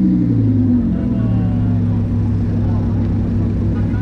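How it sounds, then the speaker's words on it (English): An Audi car pulls away along a New York City street at night, a steady low engine and tire rumble with continuous traffic hum that fades slightly as it departs. "the Audi has left"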